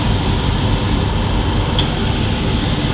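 An airbrush sprays paint toward a spray booth while finishing a 1/35 scale Gecko Models British landing craft LCA kit, a loud continuous hiss filling the whole stretch with a brief dip partway.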